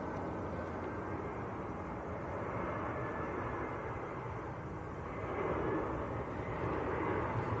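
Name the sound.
EasyJet airliner on short final approach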